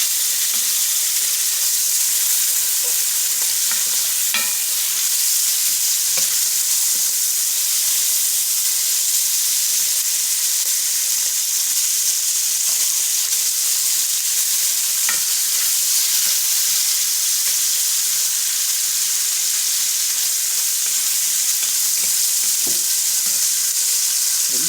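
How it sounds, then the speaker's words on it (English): Bacon cooking in a pan to render its oil, a loud, constant sizzle and hiss that runs without pause, with faint crackles and pops and no voices. "Just cook the bacon enough to release the oils in it."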